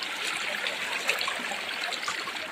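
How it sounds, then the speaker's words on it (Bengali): Water runs steadily out of a stream outlet at a seasonal flow spot, a continuous close trickling and rushing wash with no voices. "আজ জল বেরাচ্ছে"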